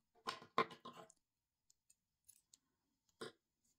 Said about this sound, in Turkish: İpimizi keselim.